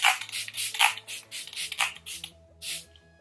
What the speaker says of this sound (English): I'm going to set with the Photo Finish Primer Water Spray